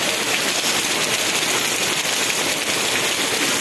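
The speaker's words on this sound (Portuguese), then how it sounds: "E a chuva aqui em Quixeramobim caindo." Steady rain falls on surfaces in Quixeramobim, Ceará, on an early Saturday morning, a dense, even hiss that holds at constant loudness throughout with no voices.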